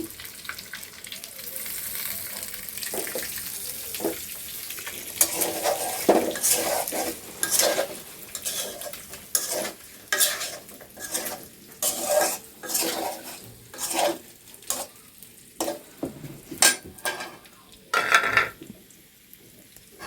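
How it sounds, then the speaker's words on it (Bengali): Potato frying in hot oil in a pan previously used for frying eggs, with steady close sizzling and frequent scraping and clinking of a utensil stirring against the pan throughout. "এই দেখেন, আমি এখন আলুটি ভেজে নিব তেলে। তেলের মধ্যে দিয়ে দিলাম ডিম ভাজা তেলে।"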